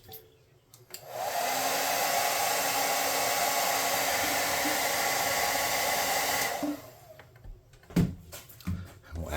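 Hair dryer blowing steadily and loudly on freshly painted red pieces, running for about six seconds before switching off, followed by a few handling knocks.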